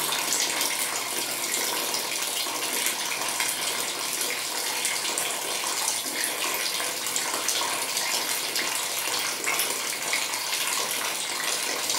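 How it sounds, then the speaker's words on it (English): Water runs steadily from an open tap into the tank of a simple water level controller setup, a continuous loud gushing hiss with no talk over it. "open the tap and see what happens"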